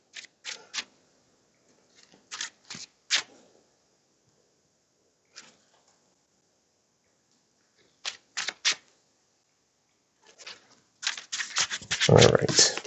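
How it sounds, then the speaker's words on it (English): A deck of MetaX Justice League trading cards is shuffled in short, crisp riffling bursts separated by quiet pauses, ending in a louder, denser flurry of card snaps. "So I'm just going to do a quick shuffle of my cards."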